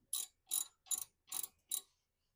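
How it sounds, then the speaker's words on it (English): Five evenly spaced ratcheting bursts from a large torque wrench cranking on caliper bracket bolts of a driver's side front brake, each short and close, clicking through a mechanism with quiet gaps between them and no talk. "You got to get the large torque wrench in there. Crank up on her."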